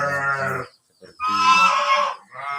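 Dairy cows in a cow barn give loud, close, drawn-out moos, three calls separated by short pauses, with no talk.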